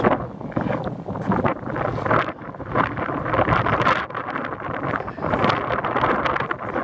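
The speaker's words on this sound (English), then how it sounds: "It's getting very windy." Strong wind buffets the microphone in continuous loud gusts, with rushing, rumbling noise throughout and no clear pauses.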